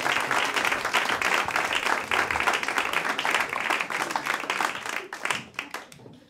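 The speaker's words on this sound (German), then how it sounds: "nochmal einen kräftigen Applaus, mehr!" A pub comedy crowd gives loud, dense applause for comedian Thomas Steierer, continuous clapping that holds strong for several seconds before tapering off near the end.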